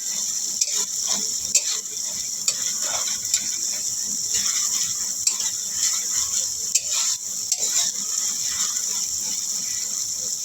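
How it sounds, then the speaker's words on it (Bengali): Spice paste for a bhola fish curry fries in a pan with a continuous bright hiss, broken by scattered scraping and tapping as it is stirred close by. "মশলাটা কষানোর জন্য বসিয়ে রাখবো।"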